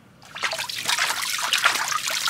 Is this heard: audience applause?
no